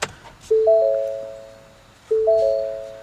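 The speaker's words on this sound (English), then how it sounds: "Ford actually introduced a new chime on the Fusion as well." A two-note electronic ignition key warning chime in a 2013 Ford Fusion SE 1.6T sounds twice, each ringing tone decaying slowly in a quiet car interior.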